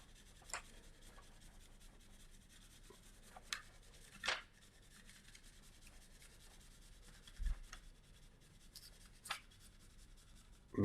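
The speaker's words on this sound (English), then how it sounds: "start slowly putting that down, back down, and burnishing it as I go" Tape is burnished down onto a board by hand, giving quiet, scattered rubbing strokes spaced a second or more apart in a still room.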